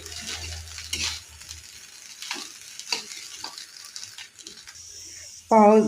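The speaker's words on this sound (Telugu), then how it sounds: "ఇవన్నీ బాగా కలుపుకున్నాక 1 నిమిషం పాటు వేపుకోవాలి" Egg fried rice being stirred and fried in a pan makes a soft, continuous sizzle with scraping stir strokes under a speaking voice, ending in a short, bright electronic tone.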